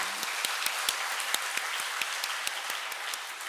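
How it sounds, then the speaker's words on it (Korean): A church congregation breaks into applause during a sermon, a fairly quiet, even patter of many hands with a few sharper individual claps standing out, no speech over it. "우리 하나님께 영광의 박수를 보냅니다."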